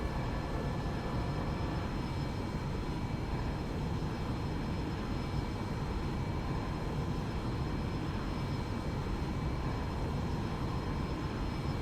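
Simulated airplane climbing in the X-Plane 11 flight simulator game, a steady broadband engine roar with a faint high whine, constant and unbroken throughout.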